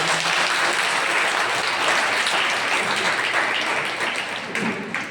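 An audience at a religious gathering with a guru claps together in sustained, loud, even applause that begins to thin slightly toward the end.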